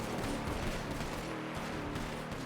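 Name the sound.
gunfire from a drive-by shooting in a video game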